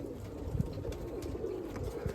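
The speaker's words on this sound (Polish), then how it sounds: "Gołębie klepią." Homing pigeons at a backyard loft coo in low, throaty bursts close by, with a few soft wing claps mixed into the cooing.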